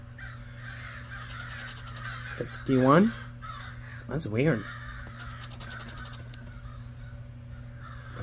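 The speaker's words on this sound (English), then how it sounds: "Bunch of crows." Crows cawing outdoors in two short bursts of harsh calls, moderately loud, as a person talks over a steady low background hum.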